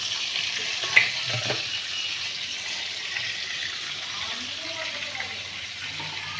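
Salted shrimp with a little turmeric fry in a pan, a steady bright sizzle with a brief clatter near the start, close and continuous.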